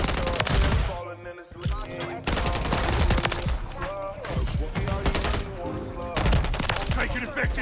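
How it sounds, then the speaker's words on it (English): Call of Duty MW3 gameplay with sustained, loud automatic gunfire in dense overlapping bursts. One brief lull comes before the shooting resumes, and it continues almost without pause. "Taking effective fire."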